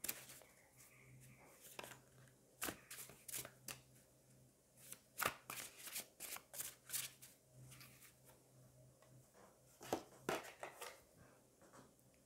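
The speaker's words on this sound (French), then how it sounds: "On va aller prendre 2 autres cartes." Tarot cards are shuffled and drawn in soft, close bursts of riffling and slapping, with irregular pauses between handfuls over a quiet background.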